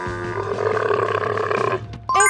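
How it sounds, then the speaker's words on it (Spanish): A camel bellows in a sustained, rough, groaning roar lasting under two seconds, loud and close, with a guttural grunting texture, followed by a brief pause and the start of a different sound. "Es un camello."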